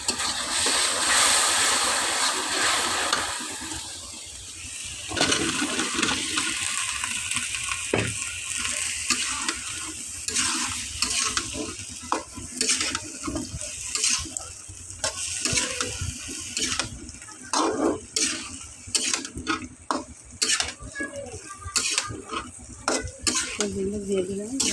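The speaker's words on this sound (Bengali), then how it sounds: "সবজিগুলো দিয়ে দিলাম, ভালো একটু কষে নেব।" Vegetables being stir-fried in a pan sizzle steadily while a utensil repeatedly scrapes and clatters against the metal, with clustered stirring strokes and pan knocks growing more frequent toward the end.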